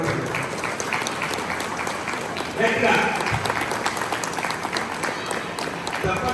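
An audience at a Lions Club installation ceremony claps steadily, a dense patter of applause swelling briefly partway through while someone speaks over it.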